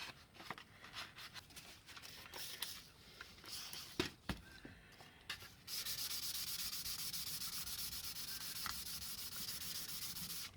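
Fine 1200 and 2000 grit sandpaper rubs on a surface during bodywork on an EJ Holden, first as short irregular strokes, then as a steady, louder continuous scrubbing to the end.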